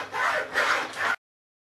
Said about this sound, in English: Just get the hacksaw started, allow it to bite